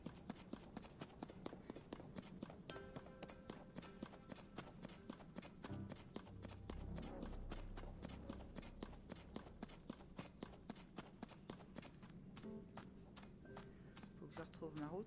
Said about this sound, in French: Il y a des chevaux là-bas.